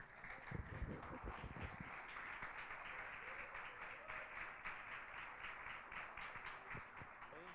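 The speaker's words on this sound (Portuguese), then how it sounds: "há uma salva de palmas para Jesus" Congregation at a church service clapping for Jesus, a dense, steady wash of many hands that holds for several seconds with faint voices mixed in.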